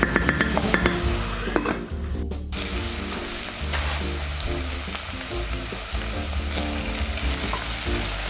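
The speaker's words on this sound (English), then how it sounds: "Every few minutes, stir the onions and garlic." Onions and garlic sizzle in a pan while a utensil scrapes and knocks against it in repeated stirring strokes, close and steady with a brief lid or pan clatter, no talk.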